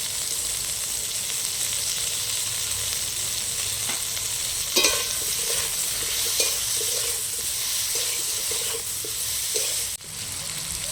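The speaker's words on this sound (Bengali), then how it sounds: "প্রথমে আমি বেগুনটা ভেজে নেব" Eggplant fries in hot oil in a pan, a steady bright sizzle throughout with occasional scraping stirs of a spatula, close and fairly loud, no voices.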